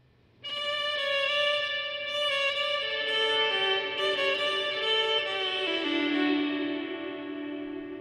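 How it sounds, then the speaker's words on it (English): Guitar played through a reverb pedal on its Snapshot Sanctuary setting: sustained, shimmering chords with a long, lush wash of reverb and echo trails, loud and steady throughout with no talking. "It just like it just sounds a very not dry reverb."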